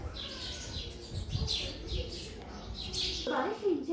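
Sparrows in a home courtyard chirp continuously in short bright tweets, several birds overlapping at moderate distance, with low background rumble and a brief voice near the end.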